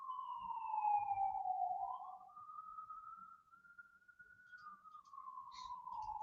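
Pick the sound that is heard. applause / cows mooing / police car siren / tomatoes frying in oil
police car siren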